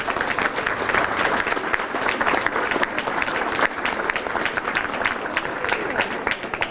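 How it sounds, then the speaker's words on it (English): Audience at the official opening of a rural transport centre giving a round of applause, steady dense clapping from many hands that holds evenly throughout, moderately close, with no voices over it. "I want, first of all, a big round of applause for Mary McKenna"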